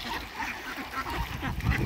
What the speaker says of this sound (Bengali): সুন্দর নদীর পানিতে হাঁসের গুমাগম